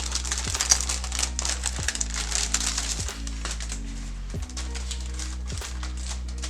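Stationery planner unwrapped from crinkly plastic packaging, a steady close rustling and crinkling running throughout with repeated soft thuds as it is handled.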